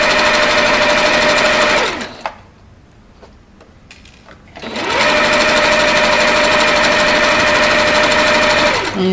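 Sewing machine stitching a straight shirt seam from a Butterick pattern, a loud steady mechanical whir that runs for about two seconds, drops out for a quiet pause, then starts up again and runs steadily to the end.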